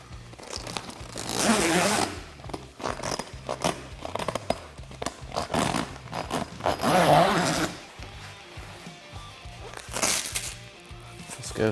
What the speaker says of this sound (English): we'll go ahead and get it zipped